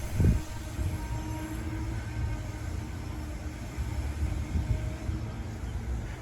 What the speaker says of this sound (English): The extremely short train pulls into the tail track.